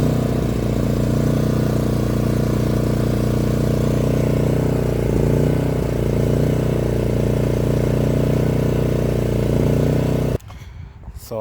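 A Champion 5,500W/4,000W inverter generator with remote start runs off eco mode, giving a loud, steady engine drone that holds for about ten seconds before cutting off abruptly into near quiet.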